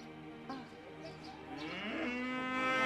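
A cow near a rice field in Tibet gives a long, drawn-out moo that rises and swells toward the end, heard close and clear with no voices.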